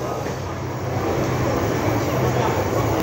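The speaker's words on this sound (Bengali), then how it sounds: "এই যে ট্রেন চলে যাচ্ছে" A train moves through Akhaura railway station, a loud continuous rumble that swells slightly after the first second, with voices murmuring in the background.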